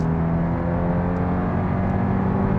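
A Kia K5 with the 1.6 turbo engine, in sport mode, revs steadily, giving a sustained loud drone with a raised tone inside the cabin and no speech.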